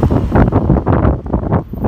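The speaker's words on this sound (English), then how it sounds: "it's getting kind of windy here, so I'm sorry if you guys can't hear me" Heavy wind buffeting the microphone in loud, rumbling gusts in Amsterdam, rising and falling, with no other sound audible.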